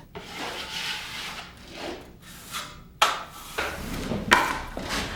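A trowel scrapes drywall joint compound in thin coats over taped fasteners, with repeated rough rubbing strokes and a few sharper scrapes, close and moderately quiet.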